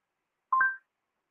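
A phone sounds a single short two-tone dialing beep on its own, clear and close, alone in otherwise near-silent surroundings.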